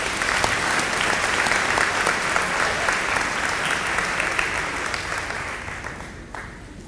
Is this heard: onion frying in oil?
no